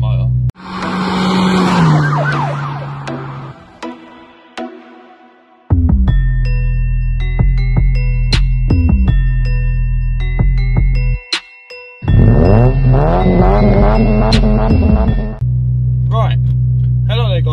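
A car motor cranks, starts and revs in sharp, loud bursts with tonal engine whine, brief drops to quiet between revs, then settles into a steady idle near the end.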